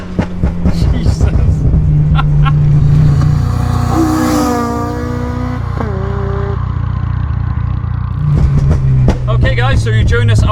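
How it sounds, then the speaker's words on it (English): Modified Honda Civic Type R EP3 engine revving hard with exhaust pops and crackles, a loud rising and falling rev pattern with sharp bursts at the start and end, heard from inside the car on the road. "first things first, the revving and the popping"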